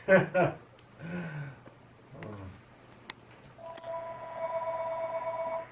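A telephone rings with a steady electronic trill near the end, after a few brief spoken words, fairly faint in a quiet room.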